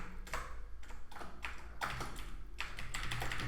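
Java code being typed on a computer keyboard: quick, irregular bursts of soft key taps with short pauses between, fairly faint and alone.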